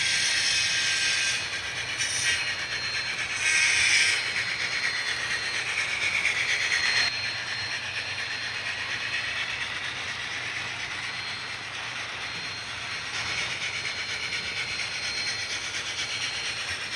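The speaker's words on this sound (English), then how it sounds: "You'll notice the next two run-bys, the train switches tracks each time." An HO scale model train runs by on a layout track, giving a steady, close rolling rumble with a bright hiss and faint clicking that holds for the whole stretch without voices.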